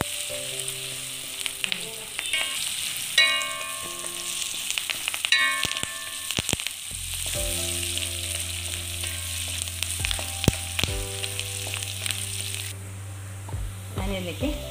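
Pieces of jackfruit fry in a pan, sizzling steadily up close, with clinks of stirring and a deeper bubbling that swells midway, no talk.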